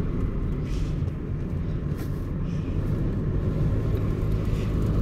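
A Toyota Yaris with an engine misfire runs with a steady, rough low rumble that holds nearly constant, never climbing in pitch as it labours without picking up speed.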